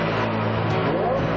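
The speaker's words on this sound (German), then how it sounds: "Der V8 beweist, wie der Sound eines Motors zu sein hat." Ferrari F355 with its mid-mounted 380 hp V8 running loudly, a steady dense engine roar under a voice talking.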